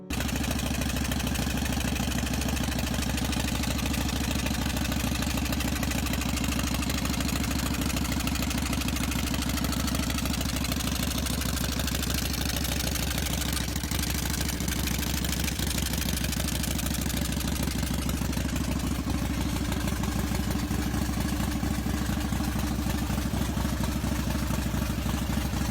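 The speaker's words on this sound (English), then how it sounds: "1992 Harley-Davidson Fat Boy" A 1992 Harley-Davidson Fat Boy motorcycle idles steadily and loudly, its deep, even engine rumble running unbroken with no talk over it.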